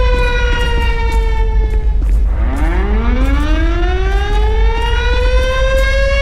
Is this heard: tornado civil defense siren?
yes